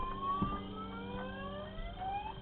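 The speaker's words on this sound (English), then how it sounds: "The car alarm starts blaring throughout the neighborhood" A truck's car alarm blares through a neighborhood, rising electronic whoops and steady tones repeating at moderate distance.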